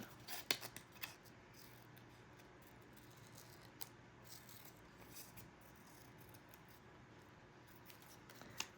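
Scissors snip through paper as lace snippets of Tim Holtz wallpaper flowers are cut out, quiet repeated cutting clicks with a few sharper snaps at the start and end, close and faint, no talking.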